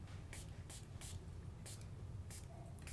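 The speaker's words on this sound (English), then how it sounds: "If you want to just spray water on all of it and then move it about" Spray bottle misting water onto gel prints, about six short hissing bursts in an uneven rhythm over a low steady background hum, close and fairly quiet.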